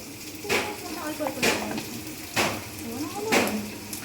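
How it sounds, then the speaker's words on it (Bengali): Biryani ingredients frying in a pan until deep red: a steady sizzle with four or five scraping, clattering strokes against the pan at roughly one-second intervals, close by, with some voices in the background. "এটা পুরো লাল লাল করে ভাজতে হবে"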